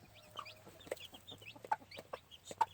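Chickens, some with chicks, cluck in short scattered bursts inside a pen on a gamefowl farm, fairly faint against a low steady hum, with no talking.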